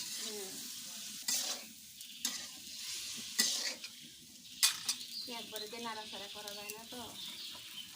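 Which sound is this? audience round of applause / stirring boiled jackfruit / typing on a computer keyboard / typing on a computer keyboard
stirring boiled jackfruit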